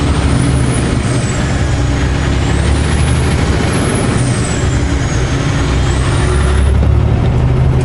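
A Kenworth truck's engine rumbles through an open cab window while driving, a loud continuous low drone with road and wind roar and a faint whine rising and falling above it.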